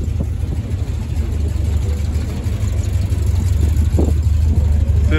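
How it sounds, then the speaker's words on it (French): An MG car's engine idling outdoors at a busy car meet in fine weather, a steady low rumble throughout with a faint background of crowd noise. "Sympa ce véhicule, une MG évidemment."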